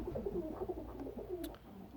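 Pigeons at a pigeon loft coo softly in low, rolling murmurs, a steady close burble with no talking.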